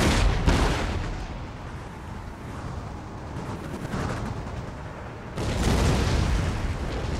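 A musket volley rips out in Empire Total War, a heavy burst of overlapping gunfire followed by a rolling roar of battle noise that swells again into a second loud crackling salvo.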